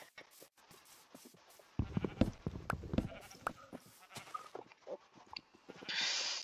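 Bleating sheep from the Minecraft video game, a few short bleats over busy game sounds and clicks, at moderate volume with no talking.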